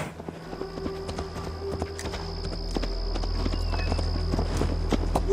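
Horse hooves clip-clop at a steady walking rhythm in Assassin's Creed Valhalla, fairly close and clear over a low ambient game hum, with a faint tonal drone and no talk.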